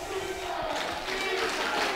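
A college football stadium crowd roars in a steady, broad wash of cheering and shouting, swelling slightly toward the end, heard from a distance with a commentator talking over it.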